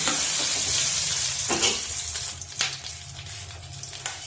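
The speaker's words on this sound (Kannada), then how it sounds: "ಎಣ್ಣೆ ಬಿಸಿ ಆಗಿದೆ. ಕಡಲೆಕಾಯಿ ಬೀಜ ಹಾಕ್ತಾ ಇದ್ದೀನಿ ಮೊದಲು." Peanuts fry in hot oil for a South Indian tempering for gojju avalakki, a steady bright sizzle with a few scrapes of a spoon stirring, close and continuous with no talking.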